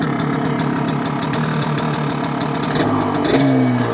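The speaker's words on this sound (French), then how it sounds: "Alors là dans le pot d'échappement j'entends un petit fourmillement." A car engine idling with a faint tingling, crackling fizz in the exhaust pipe, a steady close rumble throughout that shifts pitch slightly near the end.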